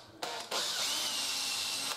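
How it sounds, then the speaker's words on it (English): A small 2 mm pilot drill bores into a wooden door while fitting a tubular mortice latch, giving a brief start, then a steady close high whir that runs for over a second before cutting off, with no talk. "with my pilot drill, it's only a 2 mil the pilot drill here, I'll just put a little pilot in there"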